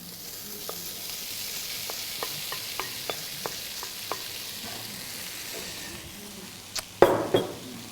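Tofu for scrambled egg tofu is stirred in a sizzling frying pan with a run of light spatula taps, then lands in the hot pan with a sharp burst of sizzle near the end.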